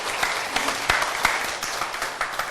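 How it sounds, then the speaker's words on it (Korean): Audience applause at a Korean Buddhist talk with a monk, dense steady clapping from a crowd with sharper individual claps standing out, filling the short stretch without speech. "박수 한번 부탁드려요"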